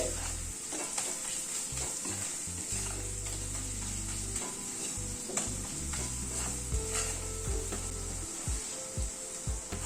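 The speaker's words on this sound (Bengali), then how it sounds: "সব মশলাগুলো দিয়ে একবার ভালো করে কষিয়ে নিচ্ছি।" Chole spice mix and ground spices are sautéed and stirred in a pan, giving a steady close sizzle with repeated scraping and rubbing strokes over a low rumble, with no talk.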